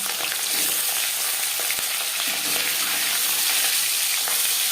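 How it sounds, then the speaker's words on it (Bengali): Marinated katla fish fries in four spoons of hot refined oil, a dense, steady sizzle with bright crackling spatter that stays loud and continuous throughout, with no voices. "তেল আমি গরম করে নেব চার চামচ রিফাইন্ড অয়েল গরম করে নেওয়ার পর দিয়ে দেবো ম্যারিনেট করে রাখা মাছ"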